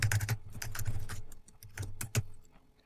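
Quick bursts of typing on a computer keyboard, the keys clattering close and fairly loud in uneven runs with short pauses, no voices over them.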